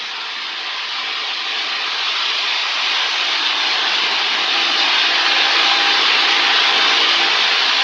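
A small airplane's piston engine drones steadily during a carb heat check, a loud continuous roar with a slight rise in level, and no voices over it.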